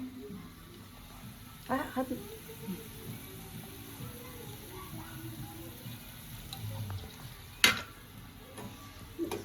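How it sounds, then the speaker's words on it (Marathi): Masala for chicken curry is stirred in a hot kadhai, soft frying sizzle under scraping spoon strokes with a couple of louder knocks against the pan, no talk. "आता मिक्स करूया."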